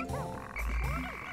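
Frog enemy in the Pikmin video game croaking in a few loud, close, rising-and-falling calls over game background music, with no talking.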